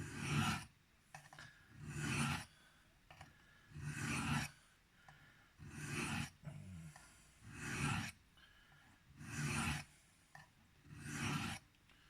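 A Spyderco Byrd Robin 2 knife blade is reprofiled freehand on diamond stones, giving rhythmic rasping strokes, about eight of them in regular bursts with short pauses between, close and clear with no talking.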